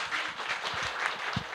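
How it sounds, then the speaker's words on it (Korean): An audience at a church book concert applauds a priest onto the stage, giving brief, steady clapping from a sizeable crowd at moderate volume. "박수로 모시겠습니다"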